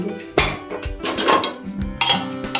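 A metal pressure cooker lid being handled and opened, giving several sharp clanks and metallic knocks of pot and lid in quick succession, close and fairly loud.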